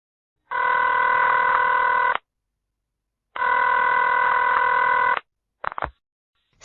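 Two long, steady touch-tone beeps from a telephone keypad, each about two seconds with a gap between, loud and clean, followed by a short click.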